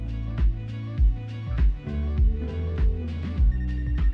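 Telephone ringing in the video game Life is Strange: True Colors, a repeated electronic ring sounding in regular bursts about every half second to second, clear and alone with no talk.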